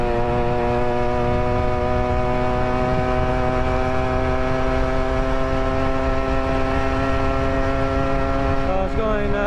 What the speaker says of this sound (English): So yeah, as you can see, it's a very powerful two-stroke engine.